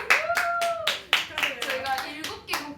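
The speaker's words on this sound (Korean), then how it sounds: "여러분 박수!" A small group clapping in a lively burst of applause, hands striking quickly and close by, mixed with bright cheering voices and laughter from the same people.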